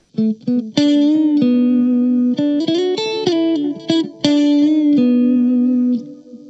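Clean electric guitar notes ring out through a Blackstar ID:CORE V4 amp on its analog delay setting, echoing repeats trailing each phrase, loud and close, ending with a fading tail.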